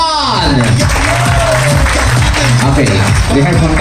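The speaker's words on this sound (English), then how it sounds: "Everybody claps." Audience applause at an emcee-led contest event, a dense steady clapping from a crowd sustained throughout, fairly loud and close, with a few voices mixed in.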